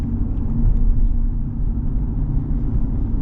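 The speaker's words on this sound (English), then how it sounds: "You're always gonna get a little bit of chatter from all-terrain tires." All-terrain tires on a 2024 Ram 1500 Warlock pickup give a steady low rumble and road hum heard from inside the cab while driving, loud and continuous.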